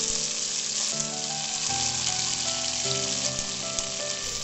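Sliced raw plantain frying in hot oil with dried chilli and curry leaves, a steady dense sizzle running throughout with faint clicks of a spoon, close and fairly loud, no voices.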